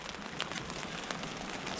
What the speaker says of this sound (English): rain and the wind have just been kind of relentless